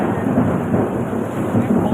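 A thunderstorm with heavy rain pours outside. Deep rolling thunder and a dense hiss of rain hold steady and loud, with no talk.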